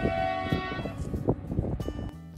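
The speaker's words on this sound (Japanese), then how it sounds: "汽笛を鳴らしながらやってきたのは、前の日にも見たあの永遠に続く列車" An iron ore freight train on the line from Kiruna, Sweden, to the port of Narvik, Norway, sounds a long, loud horn with a rumbling train beneath it, and the horn cuts off at the end.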